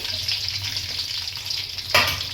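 Tomato, green chili and garlic fry in a pan for brinjal bharta: a loud, close, continuous sizzle with a short sharp burst of crackling near the end.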